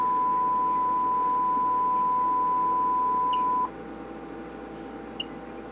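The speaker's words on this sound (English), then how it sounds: "And a beautiful sine wave" A 60-year-old Perpetuum Ebner Model 99 puts out a clean, steady sine-wave tone. It holds evenly for about three and a half seconds, then cuts off, leaving low background hiss and a single small tick.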